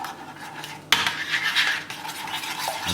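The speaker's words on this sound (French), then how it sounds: "On mélange bien." Guinness chicken sauce mixture stirred in a pan, with a spoon scraping and clinking against the metal in a busy, close scratching rhythm after a sharp initial knock.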